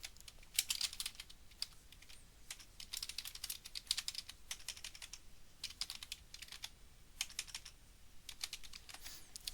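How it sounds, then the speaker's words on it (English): Someone types Python code on a computer keyboard, a quiet, close run of uneven key clicks in quick clusters with short pauses between. "Sorry, that was not very good typing on my part."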